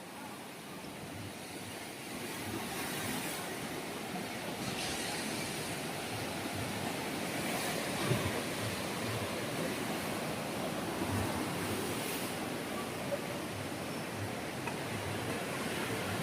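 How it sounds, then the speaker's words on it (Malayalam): Sea waves rolling in on a beach make a continuous broad wash of surf, slowly swelling and fading in soft surges, heard at a moderate distance with no talk. "നല്ല കടലടിച്ച് കയറുന്നുണ്ട്"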